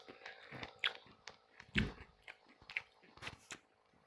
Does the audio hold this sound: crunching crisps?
yes